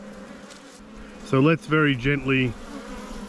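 Honey bees at the top of an opened hive keep up a continuous buzz underneath someone speaking briefly close by, the humming carrying on before and after his words.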